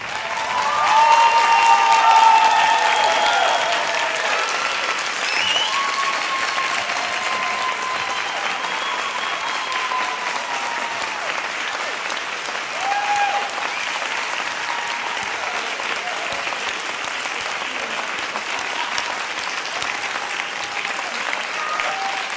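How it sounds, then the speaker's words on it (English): An audience applauds at a graduation ceremony, a long dense round of clapping that peaks early and then holds steady, with faint voices and a few cheers mixed in. "Could I ask you now to be upstanding to applaud them and thank them for all of the support they've given you?"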